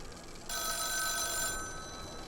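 A telephone rings in the horror game The Town of Light, a single bright, metallic bell burst lasting about a second against a quiet, hollow room tone.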